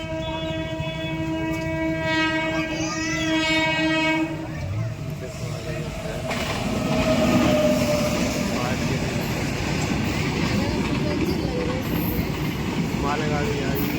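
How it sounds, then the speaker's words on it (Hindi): A freight train passes by a railway line, its long horn sounding in steady tones before the heavy rumble and clatter of wagons builds and continues loudly, with voices talking nearby. "मालगाड़ी आई है, जय हो मालगाड़ी"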